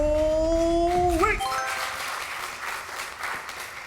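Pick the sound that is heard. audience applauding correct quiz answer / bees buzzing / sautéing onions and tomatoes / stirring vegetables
audience applauding correct quiz answer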